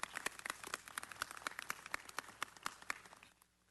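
Applause from the audience at a city council meeting, sparse, scattered claps in an uneven rhythm that thin out and stop near the end.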